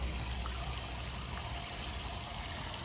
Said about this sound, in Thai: เอาบักฮงมาล้างน้ำเลย